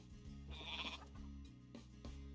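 A goat bleats in the Age of Mythology Retold strategy game, a single clear wavering cry standing out above a quiet game background, with no talk over it.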